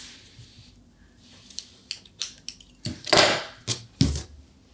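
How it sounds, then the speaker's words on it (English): Scissors cutting crochet yarn up close: a handful of sharp metallic snips and blade clicks, the loudest ones near the end, in an otherwise quiet room. "So I'm going to cut my yarn"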